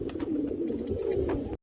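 A pigeon coos close by, a soft low warbling call that runs continuously for over a second before cutting off abruptly.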